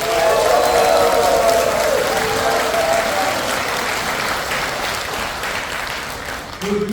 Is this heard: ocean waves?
no